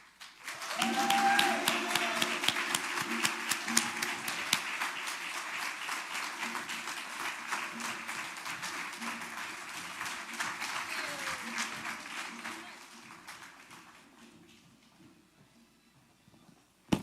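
An audience applauding to welcome an award recipient at a Malcolm X Day event, a dense sustained burst of clapping that holds for about twelve seconds and then fades away.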